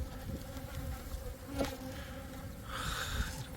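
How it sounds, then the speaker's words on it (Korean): Angry honeybees buzzing at a hive in spring after being disturbed by vibration, a dense steady drone from many bees close by, with a sharper, louder whine joining toward the end. "이 뿌레카로 이제 진동을 울리니까 벌이 아주 막 사납게 화가 많이 나는 것 같아요"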